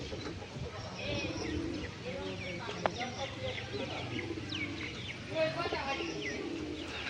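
Pigeons coo in a low, rounded rhythm close by, with chirps from other birds and a person talking over them now and then.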